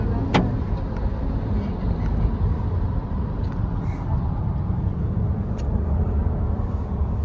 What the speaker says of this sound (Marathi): ॲज युजल ड्रायव्हर गाडी चालवतोय आमचा